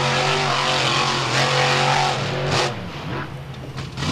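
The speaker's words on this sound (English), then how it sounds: "He may just drive until the truck runs out of gas, whipping it into a nice donut." A monster truck engine roars and revs hard while the truck spins donuts on a Wildwood, New Jersey beach during a motorsport show, loud and close with a steady growl that surges, then eases off toward the end.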